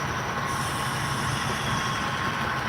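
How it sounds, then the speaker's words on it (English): HO scale model train layout with an empty coal train led by a CSX locomotive rolling through a staging yard, giving a steady continuous rumble and wheel hiss with faint squeal, close and constant throughout, no talking. "We do have a empty coal train headed up by a CSX."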